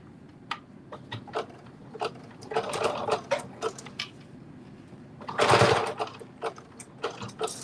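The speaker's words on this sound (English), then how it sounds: "I'm sewing this up" A sewing machine stitches a peplum belt in short bursts of rapid mechanical ticking, with one louder, longer run near the end, close and alone without talk.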